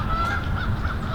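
A couple of ducks calling outdoors near the water: steady, nasal, honking cries that repeat closely for the whole moment, loud and near, with no voices over them.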